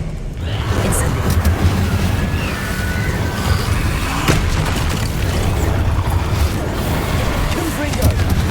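Confringo spell explosions in a Harry Potter video game, dull booms and bursts over a continuous rumbling battle din with sharp cracks, under intermittent talk.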